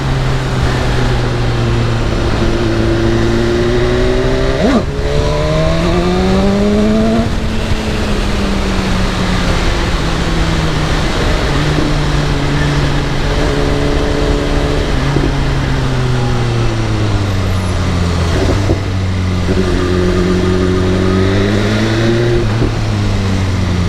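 A BMW S1000RR sport motorcycle's engine drones loudly while riding through traffic in Bangkok, rising and falling in pitch as it revs and shifts through gears, steady and close throughout.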